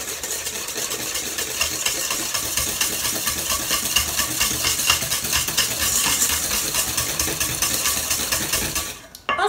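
Birthday cake batter is mixed with a steady, whirring rhythmic scraping that stays close and constant, then stops abruptly at the end.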